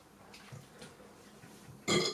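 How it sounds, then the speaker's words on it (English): A loud, short burp after drinking beer erupts at the end, preceded by faint breathy throat sounds. "Ugh, first burp of the showdown."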